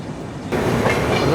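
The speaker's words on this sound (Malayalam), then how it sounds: "നമ്മൾ ജസ്റ്റ് വസൈ റോഡ് സ്റ്റേഷനിലോട്ട് പ്രവേശിക്കുന്നു" The 12284 Duronto Express rolls into Vasai Road station, heard from inside an AC 3-tier coach: a quiet hum that jumps into a louder, steady rumble of wheels and carriage noise.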